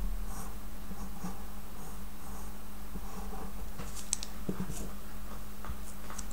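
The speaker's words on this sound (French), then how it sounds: "Et puis venir gommer cette partie" Pencil sketching and erasing graffiti lettering on paper, a close, steady scratchy rubbing with short taps and strokes over a faint low hum, no voices.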